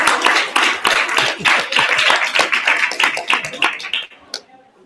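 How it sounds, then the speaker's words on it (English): An audience claps for Vicky at a group session, a lively run of distinct hand claps that thins out and stops, followed by a single late clap. "let's all have a round of applause to Vicky for sharing"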